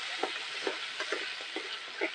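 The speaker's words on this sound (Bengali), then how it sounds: "ধনে, জিরে, গোলমরিচ, রসুন, কাঁচা লঙ্কা ভেজে রেখেছি, সেটা দিয়ে দেবো, দিয়ে নাড়ি চাড়িয়ে নেবো।" Spices fried earlier, coriander, cumin, black pepper, garlic and green chili, stirred into a pan of rohu fish curry, with regular scraping strokes about twice a second over a steady sizzle, close and alone.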